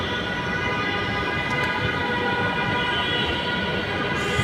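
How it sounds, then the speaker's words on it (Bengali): Metro train arriving at a station: a steady broadband rumble with tonal hum holds for several seconds, loud and constant, with a brief high whine partway through. "আমাদের ট্রেন আসছে"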